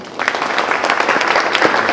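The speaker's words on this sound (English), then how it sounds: "Can I have one more little clap for you, please?" Audience clapping for a performer at an afternoon concert, a lively close patter of many hands, loud and even, with individual claps popping out.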